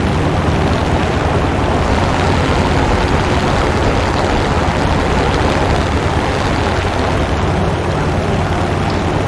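A Grumman F4F-3 Wildcat propeller fighter drones steadily and loudly in War Thunder, a dense, unbroken engine roar with rushing wind noise that holds level throughout, no voices over it.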